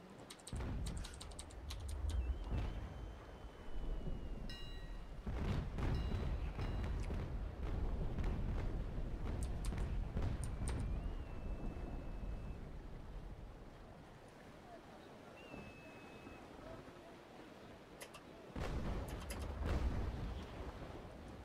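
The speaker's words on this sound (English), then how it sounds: "now that I showed you guys the cannons shooting" Ship cannons in the Naval Action naval combat video game fire in several heavy booming volleys over ongoing wind and sea ambience, with sharp blasts clustered at intervals and rumbling decay between.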